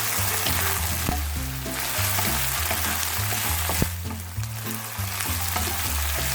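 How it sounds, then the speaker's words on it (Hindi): Onions frying in ghee oil in a pan, a loud continuous close sizzle with occasional stirring knocks, a low background hum running underneath throughout. "अब मैं ये प्याज डालने लगी हूँ, देखिए। और इस तेल में ये सारे पकेंगे।"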